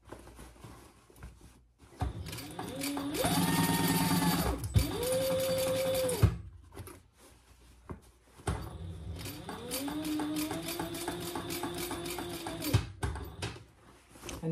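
A sewing machine stitches a Sheena Hobo bag at about a 4 stitch length, with two sustained whirring runs. Each run revs up and holds steady before stopping, and quieter pauses with handling noises fall between them.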